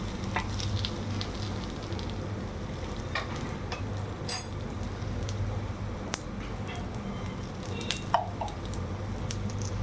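Banana cutlet frying in ghee in a pan, a steady close sizzle running throughout with a few soft scrapes and clicks as the pieces are turned over.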